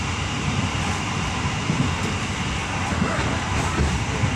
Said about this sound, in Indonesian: Tambah ngebut kereta apinya deh.